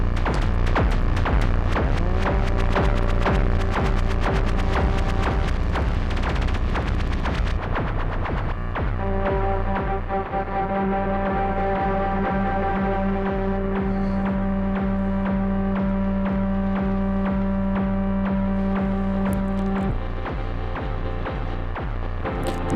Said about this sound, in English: Here's the delay circuit.